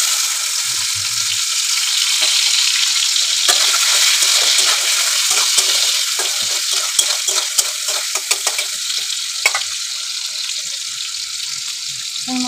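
Spice tempering and chopped tomatoes frying in hot oil, a loud continuous sizzle with frequent crackles and spatters, easing slightly after the first few seconds; no talking.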